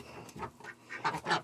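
A crested duck in a nesting box makes a few soft, close quacking calls in a quick irregular burst, faint and brief.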